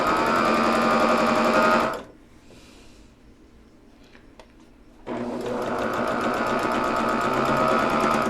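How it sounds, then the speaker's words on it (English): A sewing machine stitches a quilt block seam in a fast, loud, steady whir, stops for about three seconds of quiet handling, then runs again at full speed. "go ahead and sew our seam here."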